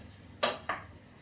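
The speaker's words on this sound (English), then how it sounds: "So you can keep that stirred and put the lid back on." A metal lid set back onto a cooking pot of tomato curry gives two quick, close clanks about a quarter second apart, alone in a quiet kitchen.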